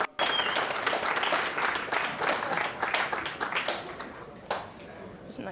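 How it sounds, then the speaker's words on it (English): A crowd at a poker tournament final table gives a strong, sustained burst of applause that fades slightly toward the end, with a few louder claps poking through. "Let's get a big round of applause for our PCA 10 high roller champion, Vanessa Selbst."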